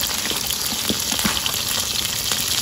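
Food frying in a generous amount of hot oil, a steady close bubbling sizzle with scattered small pops and crackles throughout.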